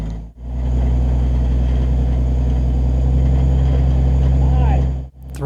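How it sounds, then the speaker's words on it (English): An off-road vehicle's engine works the Escalator obstacle on Hell's Revenge trail, a loud, close, steady low rumble that holds throughout, with two brief dropouts near the start and end. "throttling up."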